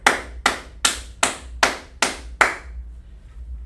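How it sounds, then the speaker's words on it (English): A class claps for a student in unison, seven sharp, evenly spaced claps about half a second apart, fairly close and alone, then fading into silence. "Clap it up for her."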